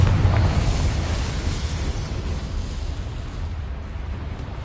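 A Confringo spell goes off in a wizarding video game with a loud close blast. A rushing roar follows and fades slowly over a few seconds, with no voices.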